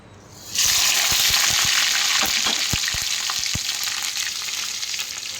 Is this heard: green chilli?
yes